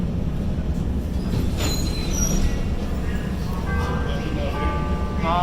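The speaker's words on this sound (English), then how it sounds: "This is an orange line train to Midway." A Chicago L Orange Line train to Midway rumbles loudly and steadily from inside the car, with wheel squeals and high metallic tones rising toward the end.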